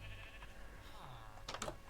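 Sheep penned behind a villager's house in Minecraft Java 1.15.2 give a couple of faint, short bleats near the end, small and distant against a quiet game background.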